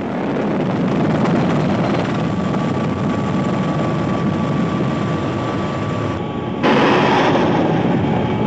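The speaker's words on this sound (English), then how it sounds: "Powered by paired engines in the 2000 HP class, the Mi-25 and its upgraded variant, the Mi-35, are extremely effective in support of ground troops" A Mi-25 twin-engine military attack helicopter, powered by paired engines in the 2000 HP class, drones loudly and continuously with a steady turbine whine, the sound shifting abruptly near the end.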